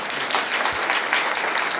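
A seated audience at a spiritual yoga talk claps in a brief, dense burst of steady applause.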